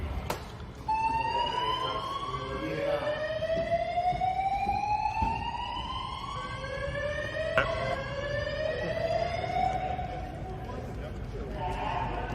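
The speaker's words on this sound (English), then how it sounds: "So apparently they had a little fire alarm prank or something happen there." A fire alarm goes off with loud, repeated rising whooping sweeps that overlap and continue steadily, with voices faintly in the background.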